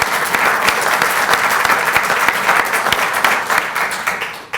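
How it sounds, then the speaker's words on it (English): An audience gives a round of applause for a speaker named Ralph Montague at an industry event, with loud, steady, dense clapping throughout that thins just at the end. "I think I'm going to lead the audience with a round of applause for Ralph"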